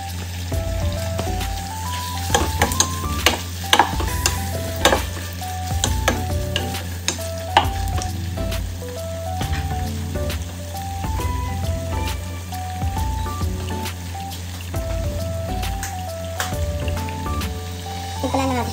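Chicken sizzling in a pan with a steady, bright frying crackle throughout, punctuated by frequent sharp pops and spatters, with a faint tonal melody playing underneath the whole time.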